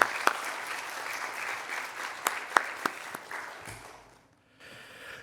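A church congregation at a Wednesday prayer meeting claps in thanks for a missionary, a steady wash of applause with a few sharp louder claps standing out, fading away near the end before a faint room murmur returns.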